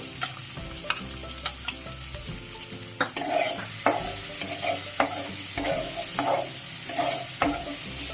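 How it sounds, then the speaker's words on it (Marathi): Finely chopped onions sauté in hot oil in a heated pan for egg bhurji, a steady sizzle broken by repeated scraping strokes of a stirring spoon, close and without speech. "भांडं तापलेलं आहे आता यामध्ये तेल आहे त्याच्यामध्ये हे दोन बारीक केलेले कांदे आहेत ते परतून घेतो"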